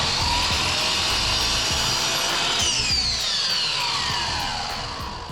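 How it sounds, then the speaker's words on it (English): A miter saw fitted with an aluminum-cutting blade slices through wall tile with a loud, continuous, high grinding whine that holds steady, then starts to wind down near the end. No talking. "I still had the aluminum cutting blade installed in my miter saw."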